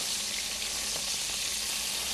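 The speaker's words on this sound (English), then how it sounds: "These things are sizzling up nicely." Steady, bright sizzling hiss of burger patties frying in a pan, continuous and close, with no talking.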